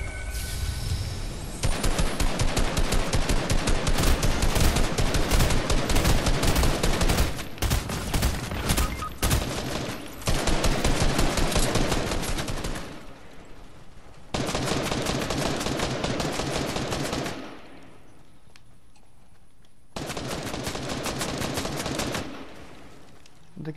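Dense rapid gunfire from the Fortnite zombie squad mode, loud bursts of automatic shots with short gaps, one stretch going quiet before firing resumes; a voice speaks briefly.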